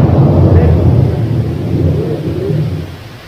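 Thunder rumbles low and heavy with steady rain noise beneath it, loud at first and slowly fading over a few seconds, no voices.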